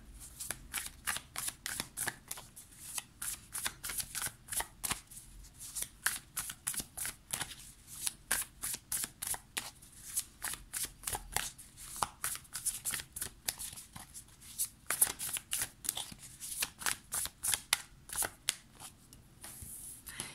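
The Light Seers Tarot cards shuffled by hand, a steady run of quick, close riffling bursts repeating for about twenty seconds, soft and without talk.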